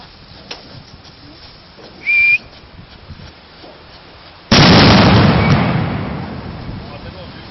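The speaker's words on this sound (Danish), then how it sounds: "Han tænder kanonslag." A kanonslag firecracker goes off at a New Year celebration: quiet outdoor ambience and a brief whistle, then one sudden loud blast whose roar decays slowly over several seconds, with faint voices around.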